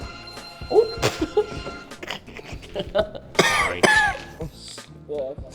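Several throat clears and coughs break up mixed voices and a brief laugh, fairly close and loud in short bursts.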